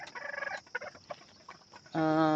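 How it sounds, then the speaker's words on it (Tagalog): Young chicks of mixed Sultano and Texas chicken breeds peep and cheep in a near, busy chorus, starting with scattered chirps and swelling into loud, continuous high calls by the end. "So ito yung mga sisiw guys."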